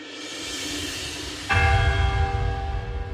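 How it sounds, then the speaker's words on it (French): A single church bell strikes once with a loud, ringing onset, then sustains a bright tone over a low rumble and hiss in a cold, quiet outdoor setting. "Le premier coup de cloche brise le silence glacé."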